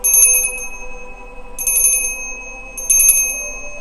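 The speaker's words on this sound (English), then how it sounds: "going to ring the bell." A bell rung three times in separate bursts, each a bright metallic ringing with a steady tone that rises over a quiet background with no talking.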